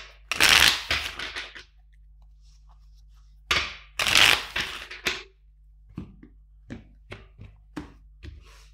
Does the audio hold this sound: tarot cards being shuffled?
yes